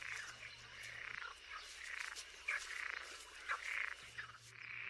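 Wild toads call in a steady, repeated chorus of rasping croaks and trills, heard at moderate distance over a quiet natural background.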